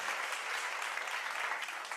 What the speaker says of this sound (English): I'm gonna give you the clap.